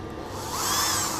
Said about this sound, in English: So I could just fasten the drill driver